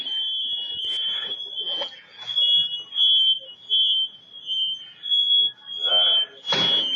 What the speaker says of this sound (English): Minutes later, with smoke alarms now audible, he exits again